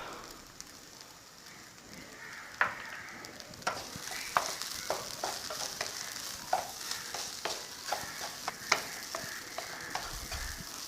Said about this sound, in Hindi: इसको मिक्स कर लेते हैं।